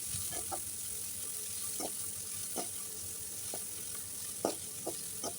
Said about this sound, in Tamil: வெங்காயமும் பூண்டும் நல்லா வதங்குற அளவுக்கு நல்லா வதக்கிக்கலாம்